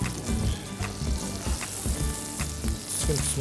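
Food frying in butter in a pan, a steady close sizzle with crackling pops and scraping or stirring noises running throughout, no talk over it.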